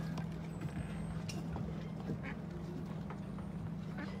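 A duck quacks outdoors near a garden of red geraniums, a few short calls standing just above a steady low background hum.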